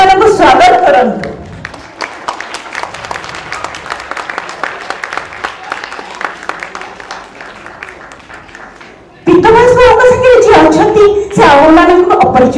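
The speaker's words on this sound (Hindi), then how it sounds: "प्लीज करताली दे समान को स्वागत करंतु" An audience claps in warm, sustained applause at a prize distribution ceremony as elocution competition winners are welcomed onto the stage. Speech comes just before the clapping and resumes loudly after it.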